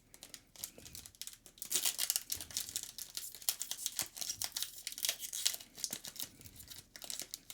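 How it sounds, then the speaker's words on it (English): Foil wrapper of a Magic: The Gathering card pack being torn open and handled, a close, busy run of crinkling and crackling that keeps going with small pauses, with no voices over it. "Please come out of the package."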